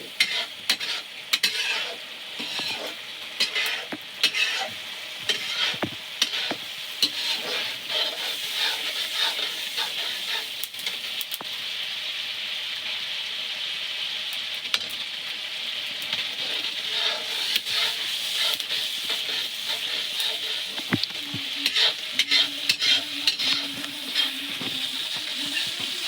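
Masala frying and sizzling in a pan as it is stirred, a continuous hiss broken by repeated scraping strokes over about half a minute, close and fairly loud, with no talk.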